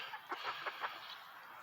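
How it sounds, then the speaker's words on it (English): Chickens in a backyard coop cluck softly in a short burst of four or five quick, clipped calls, faint and close, with no talk. "Here's a quick clip of the chickens anxiously awaiting their new spot here."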